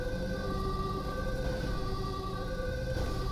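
Ambulance siren in the GTA 5 video game with the LSPDFR police mod, a steady continuous wail holding level throughout, loud and prominent with no talk over it.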